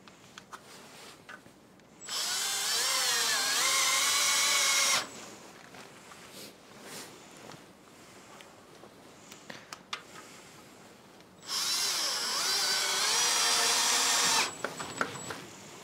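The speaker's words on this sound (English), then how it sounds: "it's really easy if you have a cordless drill like this" A cordless drill driving screws whirs in two bursts of about three seconds each, pitch shifting as screws bite, with quiet handling noise between.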